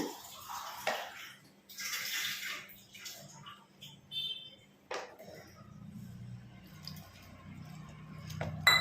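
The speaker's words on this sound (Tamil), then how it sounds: "இப்போ நம்ம தேவையான அளவு தண்ணி சேர்த்து இதை நம்ம பிசைஞ்சு வச்சுக்கலாங்க." A potato 65 masala mixture is kneaded by hand with a little water, giving soft wet squishes and splashy squelches in uneven bursts, with faint clinks of a bowl.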